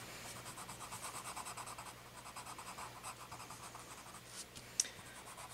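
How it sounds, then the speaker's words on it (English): A colored pencil scratches steadily across paper while someone colors a greeting card, a soft, continuous rasp of quick back-and-forth strokes heard close up, with one brief tap near the end. "Listen to that nice sound of that colored pencil on the paper."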